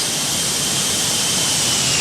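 Simulated Boeing 747-200 jet engines in the X-Plane 12 flight simulator make a loud, steady broadband roar during a low flyby, with no voices.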